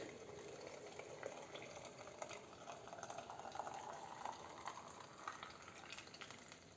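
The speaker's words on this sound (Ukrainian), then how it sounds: "чайнику закипіла вода, і ми будемо заливати їх." Boiling water poured from a kettle over apples in a jar, a faint continuous bubbling, splashing rush of liquid filling the container.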